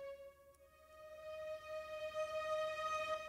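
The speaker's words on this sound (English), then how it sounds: "Real violins, and then on top of that, the soft strings that kind of adds that hybrid tone to it." Legato violins layered with soft strings for a hybrid film-score tone sustain a single held high note, quiet and smooth, gently swelling with no talking.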